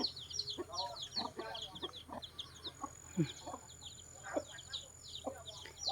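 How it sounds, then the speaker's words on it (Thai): Grandmother's backyard chickens cluck in short, repeated bursts through a steady low rural hum, with several birds calling close by in an irregular rhythm. "ไก่คุณยายจ้า ไก่บ้านคุณยาย"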